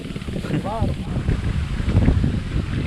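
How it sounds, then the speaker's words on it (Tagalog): Strong wind buffets the microphone in a steady low rumble at an outdoor spot under bamboo, with people talking over it throughout. "Lakas ng hangin."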